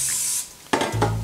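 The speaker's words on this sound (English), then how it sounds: "You're gonna wanna spray it." Cooking spray hisses briefly into a cake pan for brownies, a short close burst followed by a clatter of the pan, with no talk.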